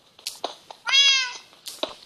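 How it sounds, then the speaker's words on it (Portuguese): A cat meows once in a drawn-out, clear, harmonic cry in the middle, with scattered clicks and short knocks around it, heard during a Minecraft-style survival game at nightfall. "gato que não para de miar"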